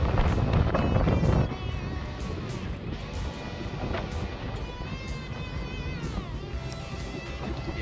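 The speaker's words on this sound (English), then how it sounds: "waiting on all this wind to die down" Strong wind blows outdoors near an RV being towed, rumbling hard against the microphone in a loud burst at first, then settling into a steady roar with faint higher tones drifting through.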